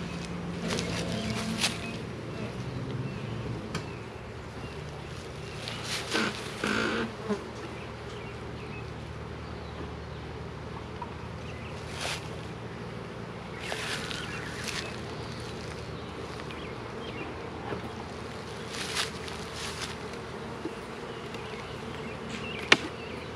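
Honey bees buzz steadily inside a two-story nucleus hive during a frame inspection, a continuous close drone with occasional brief louder swells and faint handling noises.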